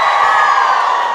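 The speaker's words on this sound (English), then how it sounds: "Give us a cheer if you drive auto." A crowd cheers and whoops loudly at a live event in North Queensland, a dense, sustained roar of voices with shouts mixed in, close and full throughout.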